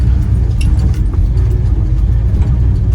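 Loud, close engine drone of an old Jeep crawling in two-wheel drive over a rocky off-road trail, a constant low rumble broken by small bumps and knocks from the rough ground.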